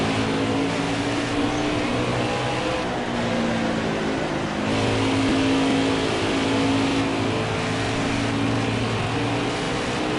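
NASCAR Camping World Truck Series engines drone continuously in a racing video game at the Tennessee Mountains start, several trucks revving and accelerating together in a loud, steady roar.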